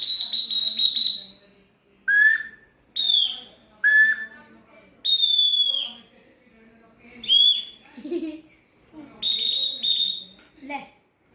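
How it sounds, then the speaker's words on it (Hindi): A small toy whistle gives about eight shrill blasts, each under a second and separated by short pauses, some sliding in pitch, close to the microphone. "सीटी बजती इसमें भी।"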